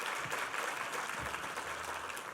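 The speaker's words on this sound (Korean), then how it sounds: "한번 힘찬 격려의 박수 부탁합니다" A congregation applauds during a Sunday church service honoring traditional Korean musicians, steady dense clapping from many people heard at a distance, moderately faint but continuous throughout.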